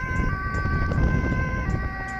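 Ambulance siren wailing during an emergency escort from Zoetermeer to a hospital in the Netherlands, loud and close with steady sustained tones over road rumble.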